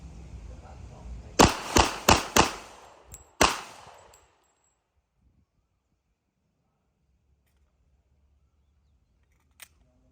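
Five sharp, loud cracks from an FNP-45 Tactical .45 pistol fire in a quick uneven string, followed by a long quiet stretch with one faint click near the end.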